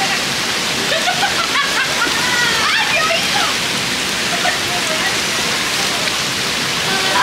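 Water in an outdoor jacuzzi pool at a countryside restaurant splashes and rushes steadily as a hand touches it, a close, continuous hiss with faint chirpy sounds and soft voices mixed in.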